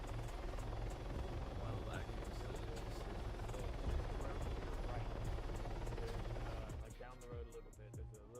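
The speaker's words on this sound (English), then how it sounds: "Sorry, the helicopter was too loud if you were responding to me." Loud helicopter rotor thumping and buzzing overhead during an online game session, steady and close for most of the clip before easing off near the end, with gunfire-like pops and faint voices underneath.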